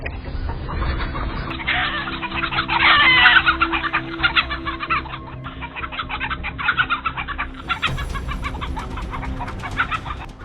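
Chickens cluck steadily inside a coop, a dense, overlapping chorus of close clucks and squawks that swells in the middle and keeps going throughout.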